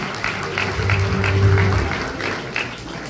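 An audience claps loudly at a Diwali bumper-offer lucky draw coupon event, dense sustained applause swelling and then tapering, with some voices mixed in beneath it.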